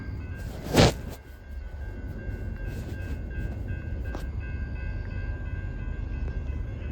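Slow Norfolk Southern P09 freight train heading northbound on the Charlotte District, a continuous low rumble of rolling railcars with a brief loud burst near the start, heard from close by.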